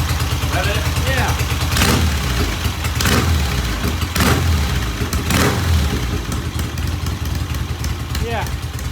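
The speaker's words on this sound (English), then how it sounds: "Kevin, give it a rev a little" A Norton motorcycle engine runs in a workshop, revving in a few swells over a steady idle rumble, close and loud, with people talking over it.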